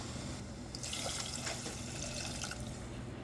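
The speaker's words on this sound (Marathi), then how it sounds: "आपल्याला जेवढी आमटी करायची तेवढं मी पाणी घातले" Water poured into a pot of Maharashtrian dal amti, made with cooked dal and ground paste, heard as a steady close splashing and trickling stream with a few drips, no voices.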